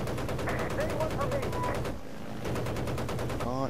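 Video game gunfire rattles in rapid automatic bursts, loud and close, pausing briefly mid-way before resuming, with game sounds mixed in.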